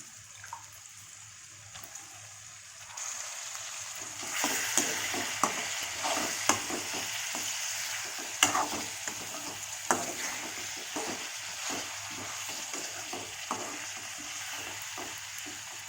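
Drumstick pieces being stirred into an egg and dry-fish curry, with repeated clinks and scrapes of a spoon against the pot over a bubbling, sizzling simmer, close and steady throughout.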